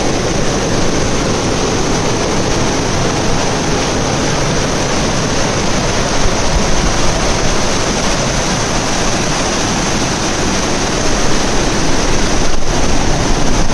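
Water gushes loudly through the leaking gate of an old bridge, about two hundred years old, a close, constant roar of rushing water that stays unbroken throughout.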